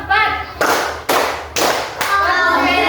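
Elementary classroom students clap in counted patterns, several sharp group claps in a loud rhythmic sequence separated by short pauses, with a child's or teacher's voice between them.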